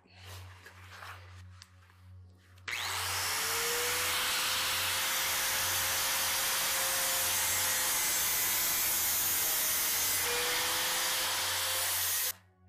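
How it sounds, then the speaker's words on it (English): An angle grinder with a cutoff wheel cuts rusted car body metal at a back window corner, a loud continuous high-pitched whine with harsh grinding hiss lasting about ten seconds, then stopping abruptly. "So I use my grinder with the cutoff wheel to cut out the straight edges"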